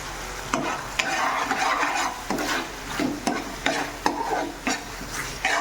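A spatula stirs soya chilli gravy thickened with flour in a pan, making repeated close scraping strokes about every half second over a low sizzle. No one talks.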